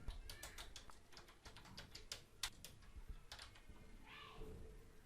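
Steady, rapid clicking of keys on a computer keyboard, close by, with a soft background hiss and no talking.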